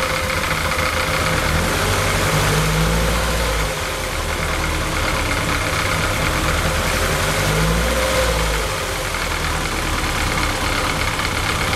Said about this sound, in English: I'll just rev it a little bit.